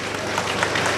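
Crowd applause at a Guinean UFDG political rally for candidate Cellou Dalein Diallo, a dense, steady wash of clapping and crowd noise with no clear breaks.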